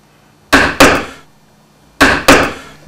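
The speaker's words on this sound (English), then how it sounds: "I'm just using an inch chisel." A mallet strikes an inch chisel carving a letter into elm wood, four sharp close knocks in two quick pairs, each ringing briefly before fading.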